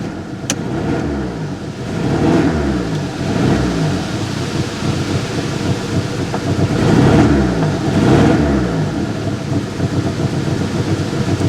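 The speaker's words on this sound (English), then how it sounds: "Sounds like it's got a bit of a misfire, but I can't hear over that blow of the exhaust." A cold Honda Civic EF9 engine idles roughly with a misfire, its exhaust leak blowing loudly over a pulsing, uneven rumble that swells in waves. The sound stays close and continuous.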